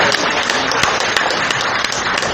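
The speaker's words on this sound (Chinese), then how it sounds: "再鼓掌一下" Audience applauding at a gathering in Kaohsiung, a dense, loud burst of continuous clapping from many hands close by.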